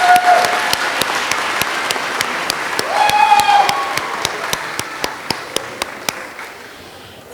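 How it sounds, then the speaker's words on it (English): An audience applauds graduates at the close of the 2023 Elmhurst University nursing convocation. Sustained crowd clapping runs throughout, with sharp regular taps cutting through and faint voices underneath. "let's have one more round of applause for our graduates."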